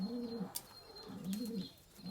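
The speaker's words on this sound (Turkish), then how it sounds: "Bulgar bangosu dedikleri kuş türlerinden var." Bulgarian bango pigeons coo in low, rolling phrases, two or three bouts close by, with a sharp click partway through and a thin steady whine in the background.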